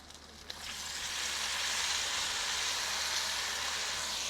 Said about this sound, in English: Let's dump them in that cast iron skillet.